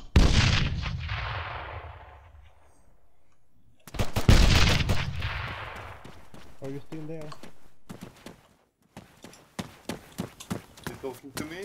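Gunfire in the Arma 3 battle royale game: loud cracking volleys with long ringing tails, then a quieter stretch of scattered single shots and short rapid bursts.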